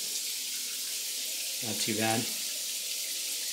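A hotel bathroom faucet at an Anaheim inn runs in a steady, close hiss of water throughout, and a brief spoken comment comes in over the stream near the middle.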